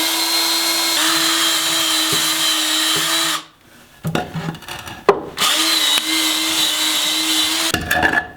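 A power drill whines steadily as it bores through a board, stopping briefly, then spinning up again for several more seconds.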